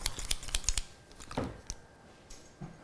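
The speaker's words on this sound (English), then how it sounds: "Let's see, I need some scissors." Scissors snipping in several quick sharp cuts close up, followed by a brief rustle of material and a couple of softer handling sounds, with no talking.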